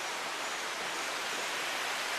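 A creek feeding the White River at Cotter, Arkansas, flows in a steady, soft, even rush of water, continuous and fairly distant, with no voices.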